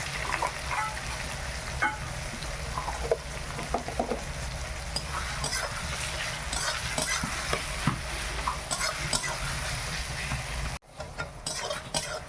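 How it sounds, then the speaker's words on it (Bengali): Onions fry in a pan on a village kitchen stove, a continuous close sizzle with frequent scraping and clinking strokes as they are stirred, no voices over it. "পেঁয়াজটা ভাজা হয়ে গেছে"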